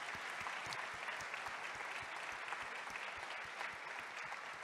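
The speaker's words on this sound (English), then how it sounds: "give a little round of applause to my sister Danae over there." Audience applause at a talk, given as a round of recognition; steady, fairly distant clapping with a few individual claps standing out throughout, no talk over it.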